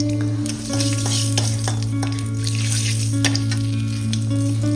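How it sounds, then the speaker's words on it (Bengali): Panch phoron spices crackle and sizzle in hot oil in a pan, with a steady frying hiss, scattered pops and a few stirring scrapes, close and loud against a constant low hum, no talking. "এই যে পাঁচফোড়নটা ভাজা ভাজা হয়ে গেল"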